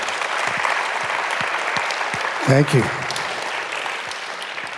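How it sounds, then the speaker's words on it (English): An audience at a SANS 2019 conference session gives a steady round of applause, with someone briefly speaking over it partway through. "if we could all just give a quick round of applause to Chuck"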